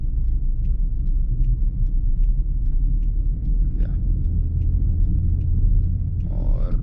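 A manual car in second gear in India with the accelerator pressed gently, a steady low engine rumble heard from inside the cabin, with a few faint clicks and a brief higher tone near the end.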